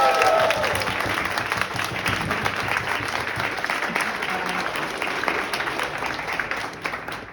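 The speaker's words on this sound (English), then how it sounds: "So, everyone wave and smile and applaud at Evelyn and Maud" An audience at a dance school farewell applauds steadily, a dense wash of clapping hands that holds for several seconds and slowly tapers, with a brief voice at the start.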